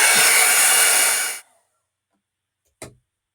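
A hair dryer blowing hot air to dry a fall-leaves craft project, a loud steady whoosh for over a second that then switches off, followed by a short faint click.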